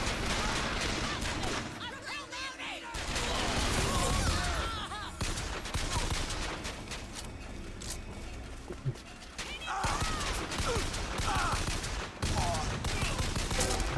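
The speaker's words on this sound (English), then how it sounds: "the guns in this are great" Bursts of gunfire and combat clatter in the shooter BioShock Infinite, loud volleys rising and falling over several seconds, with sharp impacts between them and voices speaking at times.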